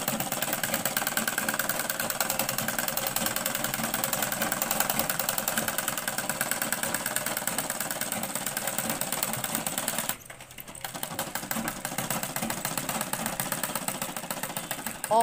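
A sewing machine stitches the side seam of a garment in a fast, steady mechanical whir, close and continuous, with a brief pause midway before it runs on.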